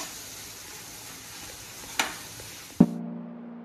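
Turmeric is stirred into food frying in a pan, giving a steady close sizzle with a sharp clink near the middle and a louder utensil knock near the end, followed by a brief ringing tone.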